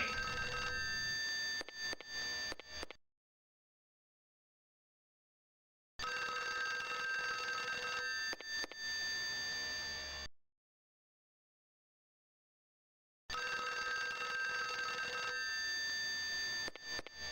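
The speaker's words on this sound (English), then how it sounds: "The telephone line has been cut. Then how is it ringing?" A telephone rings in the video game Clock Tower for Windows 95, a shrill electronic bell sounding in three bursts of about three to four seconds separated by silence.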